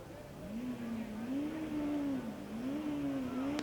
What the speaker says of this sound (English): I hear the car revving